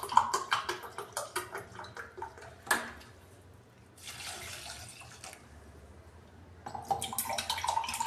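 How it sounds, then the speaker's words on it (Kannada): Water is poured from a cup into a cooking pot for dal sambar, several separate splashing pours with quiet pauses between them, close and moderately loud. "ನಾನು ನೀರು ಅಳತೆ ಒಂದು 2 ಲೋಟ 3 ಲೋಟ ಹಾಕ್ತಾ ಇದ್ದೀನಿ ನೀರು."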